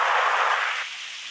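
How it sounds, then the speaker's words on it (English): Synthesized noise passed through a high-pass filter gives a bright, hissing wash like rain, steady and close, easing slightly in level toward the end with no voices. "Still sounds like rain, just a brighter sound."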